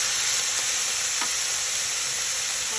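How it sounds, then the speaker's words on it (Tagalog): Tofu with tomato, seasoning and chili sizzles steadily in a hot pan while being stirred, a continuous close frying hiss with faint scrapes of the utensil. "And then, let's mix it all together."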